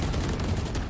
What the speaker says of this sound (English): Lots of gunfire going down.